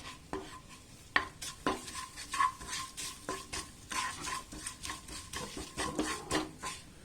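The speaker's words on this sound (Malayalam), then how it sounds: "എന്നിട്ട് നമുക്ക് നന്നായിട്ടൊന്ന് മിക്സ് ചെയ്ത് കൊടുക്കാം" Peanut masala being stirred in a pan after chili powder is added: steady scraping and clinking of a spoon against the pan with a faint sizzle underneath, close and continuous.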